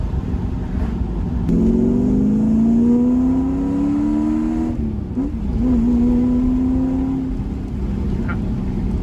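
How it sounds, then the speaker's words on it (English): A Porsche 928 with a European-spec engine and a Baun Performance exhaust pulls hard, its note rising steadily, dipping at a shift, then climbing again, loud and continuous from close by. "Sounds great, doesn't it? That sounds so good. I'm telling you, this Euro engine is a badass engine, man."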